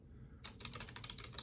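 Rapid typing on a computer keyboard starts after a short quiet pause, a close, steady patter of key clicks with no voices.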